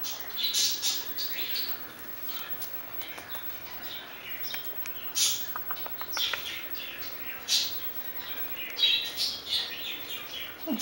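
Birds chirp and squawk intermittently at moderate volume, short sharp calls scattered throughout over a quiet background.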